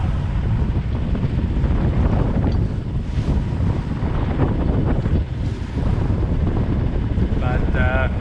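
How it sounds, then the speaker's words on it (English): Strong wind roars steadily across a reefed sailboat at sea, with rushing water and broadband buffeting dominating the whole stretch at close, loud level. "We got lots of wind, so if we can use it right, we should be all right."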